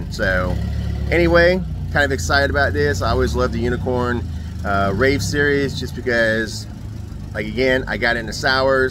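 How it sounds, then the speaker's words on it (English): A steady low engine rumble from a tractor or forklift working at the back of a brewery runs faintly beneath someone talking continuously close to the microphone. "So if you hear the tractor in the background or the forklift in the background"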